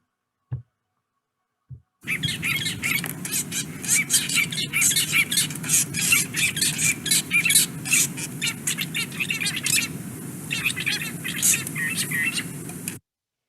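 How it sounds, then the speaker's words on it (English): Drongos giving harsh, rapid alarm calls while mobbing a model cuckoo in a tree, a dense continuous chatter of squawks lasting about eleven seconds after two brief opening notes, fairly loud and close. "the alarm calls that they would make throughout these attacks"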